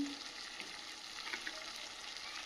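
Meat frying in oil that has separated after thorough cooking down, giving a soft, steady sizzle with faint stirring, quiet and close.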